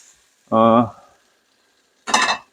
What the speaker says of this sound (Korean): 자, 송이버섯 볶습니다.